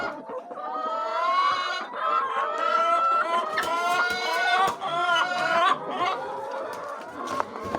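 Chickens cluck and chatter continuously on a poultry farm where hens are laying eggs, a dense, busy flock sound with overlapping calls and no talk.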